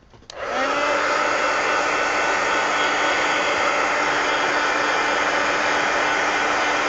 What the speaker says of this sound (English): now I am going to hit them with the heat gun real quick